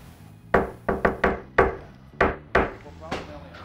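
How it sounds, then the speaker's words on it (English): Knuckles rap on a door in a familiar rhythmic pattern, about eight sharp, close knocks in quick uneven groups, loud and clear with no talking over them. "Gotta do the knock. Everyone knows this knock."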